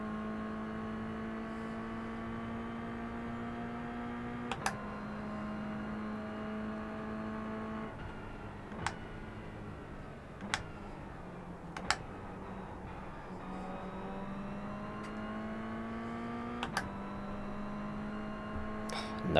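Race car engine in a racing video game holding a steady droning note, with the pitch dropping at each gear change and climbing again, plus a few sharp clicks scattered through; constant and moderately loud.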